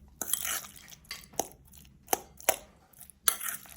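A spoon quickly stirs guacamole in a bowl with several distinct scraping and tapping strokes, close and fairly quiet, separated by brief pauses and with no talk.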